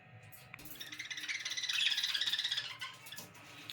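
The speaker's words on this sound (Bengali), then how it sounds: "ওইদিকে ককটেল পাখিটা বসে আছে, ও ডাকছে" A pet cockatiel in a small home bird setup gives a rapid run of repeated squawking chirps, rising in strength then fading, fairly faint against a quiet room.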